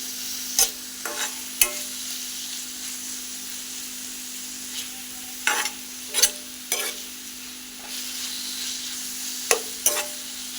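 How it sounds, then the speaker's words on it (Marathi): Tomato and garlic sauté in a hot pan, an even sizzle with sharp, irregular stirring clicks and scrapes of the spoon against the pan, plus a constant low hum underneath. "लसणाचा कच्चेपणा जाण्यासाठी आपण थोडंसं परतून घेतलं आता आपण एक टॉमॅटो घातलेला आहे"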